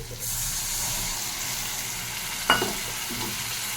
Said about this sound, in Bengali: একটু ভালো করে কষিয়ে নেব। মশলাটা খুব ভালো করে কষা হবে।